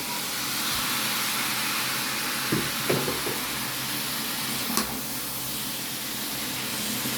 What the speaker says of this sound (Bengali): এখন ম্যাগিটা ভেজে দিব